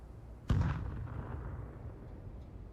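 A video game grenade detonates once with a sharp, loud boom, then a low rumbling tail that slowly fades into quiet background.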